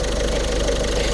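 A Peugeot 3008 II 1.5 BlueHDi diesel with the EAT8 gearbox and 93,000 km idles under an open hood, giving a steady, close, loud drone with a low rumble and faint ticking clatter, unbroken and with no talk.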